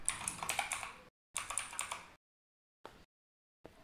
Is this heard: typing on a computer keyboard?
yes